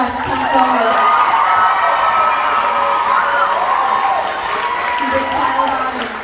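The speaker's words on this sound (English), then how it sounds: "Vincent Mercado, again with regular applause." An audience applauds and cheers steadily throughout a dance finale, with a continuous wash of clapping and shouts filling the room.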